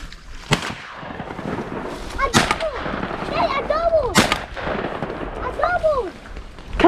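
Shotgun blasts while duck hunting on water: several loud, sharp shots spaced a few seconds apart, with duck quacks and calls between them and people talking excitedly close by.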